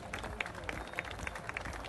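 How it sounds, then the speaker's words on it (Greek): Audience clapping at a scooter festival, a short burst of scattered applause with sharp individual claps standing out against a steady crowd wash. "ένα χειροκρότημα σας παρακαλώ πάρα πολύ"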